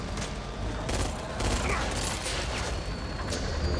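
Pistol gunfire in the co-op zombie shooter Back 4 Blood, several sharp shots spread across a dense, noisy game mix with impacts and background action.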